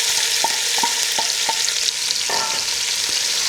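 Onions and jalapeños sauté in hot bacon grease with a loud, constant sizzle up close, while a spoon clicks and scrapes against the pan several times. No one speaks.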